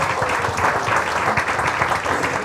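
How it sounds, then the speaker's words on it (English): Sustained applause from a large audience at a book launch, a dense, even wash of clapping throughout with no pauses. "A big round of applause for her, please."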